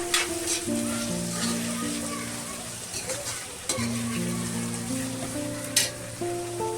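Tomatoes fry in a pan with a steady, close sizzle that runs almost unbroken, while a sustained melodic tone plays beneath it.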